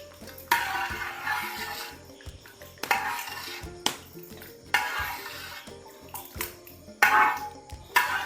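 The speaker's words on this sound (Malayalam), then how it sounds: "നന്നായിട്ട് ഒന്ന് ഇളക്കി കൊടുക്കുക" A spoon or spatula scrapes and knocks around a pan of jackfruit and jaggery cooking down into halwa, with regular metallic clanks about once a second over a wet, bubbling mixture, close and alone.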